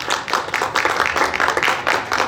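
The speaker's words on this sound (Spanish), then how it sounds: "Un aplauso para ella, por favor." Audience at a university faculty event breaks into applause, a full, steady wash of many hands clapping together that carries evenly through the whole stretch.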